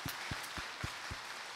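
A church congregation applauds in a few slow, faint claps spaced roughly a quarter second apart. The claps sound distant and sparse and stop after about a second.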